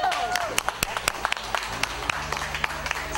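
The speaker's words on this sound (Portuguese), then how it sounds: "Aplauso!" Group at a wheelchair and walker handout event applauding, with scattered sharp hand claps in an irregular rhythm under loud, excited talk and chatter.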